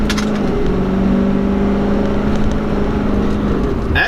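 A 2016 Ford F-350 Super Duty dually pickup with a 6.7-liter turbo diesel accelerating at part throttle, a steady loud engine drone with rising harmonic tones close by, no talking.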